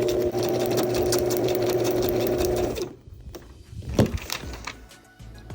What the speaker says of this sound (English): try sewing along the lines on the paper